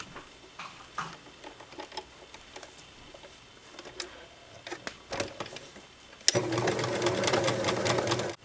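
Handling rustles and small clicks lead into a sewing machine stitching the casing of a pair of bloomers, its steady, close, fast mechanical whir running continuously through the final couple of seconds.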